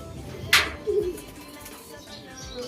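A single low pigeon coo sounds nearby after a sharp clack, over faint background noise.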